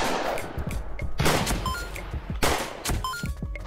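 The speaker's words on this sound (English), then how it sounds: "The cannons just shoot straight up in order to rain down on you." Rapid booming cannon shots from the video game Kungfu Cowboy fire in quick bursts, mixed with clanks and chiming game sound effects, loud and busy throughout.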